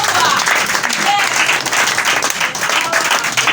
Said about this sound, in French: Applaudissez plus.